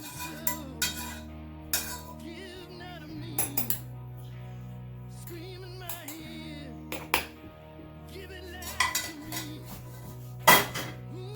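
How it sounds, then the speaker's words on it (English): Metal utensils clink and scrape against cookware in scattered bursts, with several sharp clanks standing out against a low musical background. "I really don't like using metal spoons in my pans."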